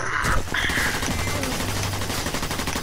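Sustained rapid gunfire in the shooter video game Sniper Elite 4, a dense crackling volley of shots that stays loud throughout the short burst, with no voices.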